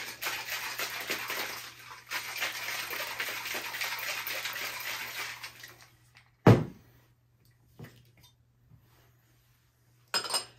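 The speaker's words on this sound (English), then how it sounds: "now we're going to give it a really good shake to chill it down" Ice rattles hard inside a cocktail shaker for a crème brûlée martini, a dense continuous shaking that runs for several seconds. Then it stops, followed by a loud knock and a few scattered clinks in near silence.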